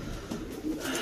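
Racing pigeons in a breeder loft give a brief, soft low cooing that sits close and steady against light background noise.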